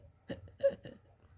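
A few small hiccups in an animated comedy scene, three short voiced catches in quick succession, fairly close and soft, with no talk.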